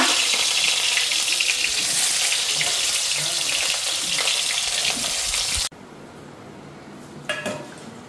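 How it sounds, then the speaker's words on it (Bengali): Steady loud sizzling of crabs frying in hot oil for several seconds, then cutting off abruptly to a quieter background with faint clinks. "তেল গরম হয়েও গেছে এইদিকে ভেন্ডি ভাজা নামায় নিছি এখন কাঁকড়গুলি ভেজা নিই"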